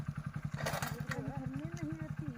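A motorcycle engine runs with a fast, even thumping pulse on a road, fairly faint, while someone speaks over it.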